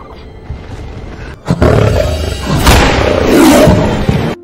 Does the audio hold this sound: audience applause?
no